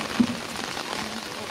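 Rain pours down steadily on an outdoor surface during a rainy-day bath, a dense broadband hiss that stays constant throughout, with faint voices mixed in underneath.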